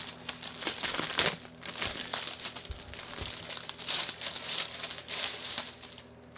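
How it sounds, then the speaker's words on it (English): Fake leather dice tray for the Oathsworn: Into the Deepwood board game being unwrapped from plastic packaging, close and continuous crinkling and rustling with a few sharper tearing snaps, no talk. "we'll take this one out of its packaging first"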